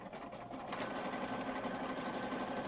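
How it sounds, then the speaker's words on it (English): A sewing machine stitches down the middle of a mixed-media craft piece in one continuous, even motor whir with a rapid needle rhythm, close and steady throughout. "I'm going to sew down the middle here."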